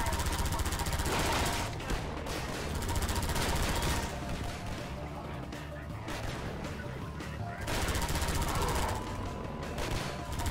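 Hovercraft-mounted machine gun in Half-Life 2 firing in long sustained bursts with short gaps, loud and continuous over game sounds, with a player's voice talking intermittently.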